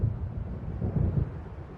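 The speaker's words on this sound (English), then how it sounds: "It seems there's a storm coming." Thunder from an approaching storm in Alan Wake Remastered rumbles low and continuous, a distant rolling boom that swells and fades without speech.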